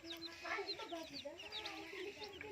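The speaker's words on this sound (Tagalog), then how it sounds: "Mga day old chicks to mga kanegro. 3 days na po nila." Three-day-old chicks peeping in a brooder: a busy chorus of high, thin cheeps overlapping continuously, close and moderately loud, with no clear talking.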